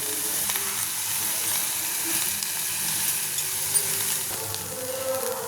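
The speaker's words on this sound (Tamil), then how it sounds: "இப்போ பீர்க்கங்காய் தோலும் சேர்த்து போட்டுக்கலாம். இப்போ இது கொஞ்சம் நல்லா வதங்கட்டும்." Ridge gourd peel sautéing in a pan with salt gives a steady, even hiss and sizzle throughout, close and moderately loud, with faint stirring ticks.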